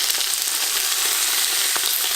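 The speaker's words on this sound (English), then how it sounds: "Turn up your heat really high so that everything sizzles and sears properly." Chicken searing in a very hot pan for hunter's chicken, giving a steady, close, loud frying sizzle with crackles throughout and one sharper pop near the end.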